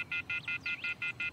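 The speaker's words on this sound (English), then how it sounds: "I took out my cell phone and dialed the first number from my contact list." Cell phone dialing tones in the video game Everlasting Summer, seven short, evenly spaced electronic beeps in quick rhythm, clear and alone.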